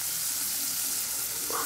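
Onions sauté in a hot pan for paneer biryani, giving a steady, close sizzling hiss with no voices over it.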